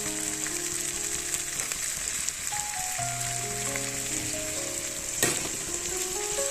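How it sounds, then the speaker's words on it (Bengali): Egg masala sizzles steadily in a pan, with a brief sharp splash and hiss as water is poured in near the end, all under soft background music. "তো আমি আবারও একটু জল দিয়ে নেব।"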